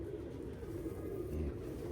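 Faint, low cooing of fancy show pigeons, soft repeated coos under a quiet background hum.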